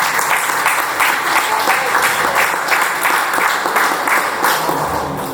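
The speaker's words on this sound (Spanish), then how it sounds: "Un aplauso para..." Steady, full applause from an audience at a literary tribute event in Cuba honoring poets, sustained and close throughout before easing slightly at the end, with no one speaking over it.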